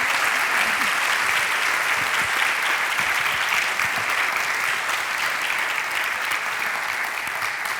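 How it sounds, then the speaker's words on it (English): Sustained, even applause from an audience for three panelists at a women's history event, dense clapping at close range holding steady throughout. "Can I have an applause for the three of them?"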